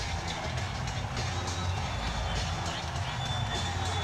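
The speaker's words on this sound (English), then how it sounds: "The crowd here cheering on the Orlando Magic with the best home record in the NBA in the regular season." An arena crowd in Orlando cheers for the Magic during Game 2 of the 1995 NBA Eastern Conference Semifinals against the Chicago Bulls, a continuous, broad roar of many voices that holds steady throughout.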